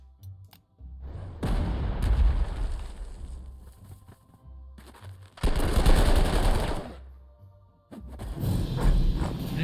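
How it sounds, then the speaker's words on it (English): Enemy artillery fire in the video game Panzer Corps 2 pounds out in loud, dense bursts of booming blasts and rattling gunfire, arriving in three separate volleys with short quiet gaps between them. "Enemy artillery fired at us over here."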